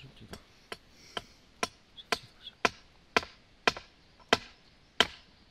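Nails hammered into wood outdoors, about ten sharp separate blows at an even, unhurried pace, fairly close and clear, with faint background voices.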